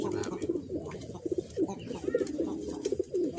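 Domestic pigeons coo in soft, low, repeated throaty bursts, close and steady, one bird after another with brief gaps, with no voices.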